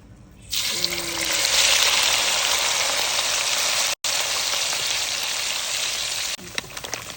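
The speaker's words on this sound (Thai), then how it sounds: "น้ำมันเดือดแล้ว เราจะทอดกัน" Thai fermented pork sausage (naem) drops into boiling oil and bursts into a loud, steady hissing sizzle that keeps going for several seconds, with a short break and some clatter near the end.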